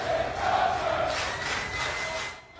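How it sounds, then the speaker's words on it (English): A naval ship's crew cheers and shouts for their departing captain, a dense crowd roar that stays fairly distant and steady before fading slightly at the end. "Here's the crew on the ship cheering for Crozier as he was let off."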